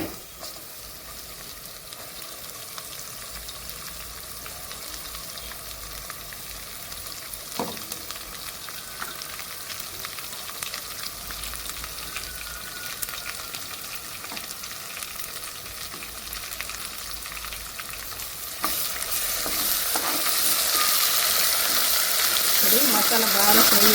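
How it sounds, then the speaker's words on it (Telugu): Ground masala paste with fried onions cooking for a bangda fish curry, a continuous close sizzle with scraping stir strokes throughout, growing louder and brighter toward the end. "మసాలా బాగా ఫ్రై చేసుకోవాలి, పచ్చివాసన పోయేంత వరకు."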